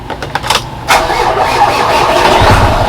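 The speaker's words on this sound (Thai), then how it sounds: "อ่ะฟังเสียงเครื่องกัน" A Fuso 240 hp dump truck from 2014–2015 cranks with a few sharp bursts before its engine catches and settles into a steady loud rumble, heard close up with no one speaking.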